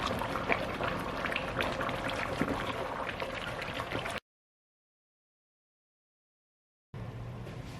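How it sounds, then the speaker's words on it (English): Yam porridge simmering in a pot with chopped onion and seasoning cube, giving a steady close bubbling, liquid sound that runs for about four seconds, cuts to silence, then resumes briefly. "Wanna keep stirring this till the water thickens and looks exactly like this."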